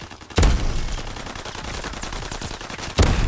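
Gunfire in the Call of Duty: WWII video game, heard as a rapid automatic rattle with two louder heavy shots, one near the start and one near the end, and no talk.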